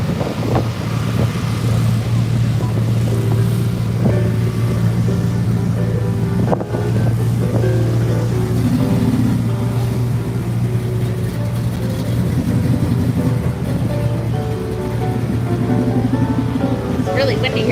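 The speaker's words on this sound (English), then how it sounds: "It's really windy here" Strong gusts buffet the microphone outdoors at a classic car show in Glendora, California, a steady low rumble that persists throughout with faint background sounds beneath.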